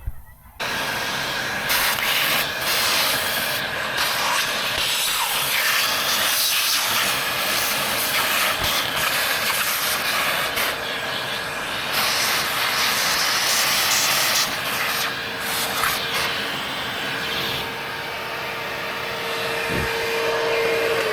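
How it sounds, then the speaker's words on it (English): A shop vac roars on abruptly and runs loud and steady for about twenty seconds, hissing and whining as it sucks up metal flakes from drilled holes, with small rattles of debris through the hose. "I think I'm going to shop vac those up before I do go any further with this."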